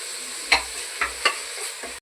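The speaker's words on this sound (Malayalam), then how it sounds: "എണ്ണ ചൂടായിട്ടുണ്ട് അതിൽ നമുക്ക് വെലുജീരം ഇട്ട് കൊടുക്കാം" Cumin seeds, small shallots and tomato hit hot oil in a Kerala-style pan, giving a steady close sizzle with a few sharp spatters and scrapes of stirring over about two seconds, no voices.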